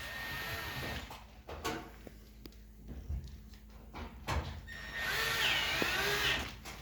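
A power driver runs screws into the side panels of an Electrolux dryer during a heating element repair, with short whirring bursts and a longer, louder run near the end, close by.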